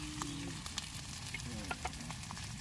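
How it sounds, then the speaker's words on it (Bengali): Chili paste frying in a pan for kachuri makes a quiet crackling sizzle with a few sharp pops and faint stirring scrapes, close by but low in level, with no talk. "ভালো করে কষে নেবে"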